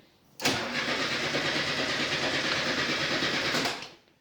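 A Volkswagen Bus engine cranks over on its first start attempt, a loud, steady, rapid churning of the starter that runs continuously for about three seconds and then cuts off, with no talking over it.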